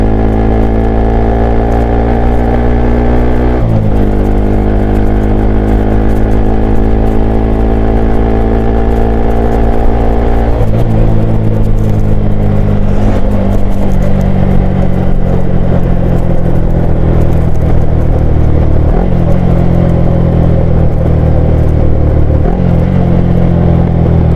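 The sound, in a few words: motorcycle with slip-on exhaust riding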